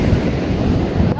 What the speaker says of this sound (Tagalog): yung sounds ng dagat ang ganda, nakaka-relax sa tenga.